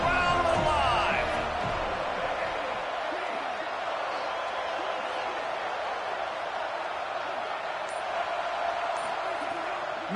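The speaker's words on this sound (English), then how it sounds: "3rd down. Red zone play. Crowd alive." Football stadium crowd on a third-down red zone play, a broad, steady roar of cheering that swells briefly at the start and then holds as a dense, distant wash of voices throughout.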